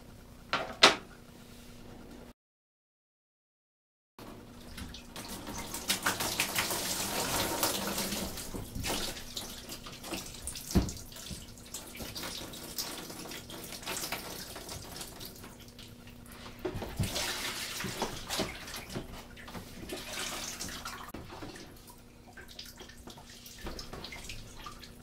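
Water trickling and splashing into a small container as a whole house water prefilter housing is loosened with a wrench under the pre-filter, a steady wash of flow with clunks of handling, heard close and alone.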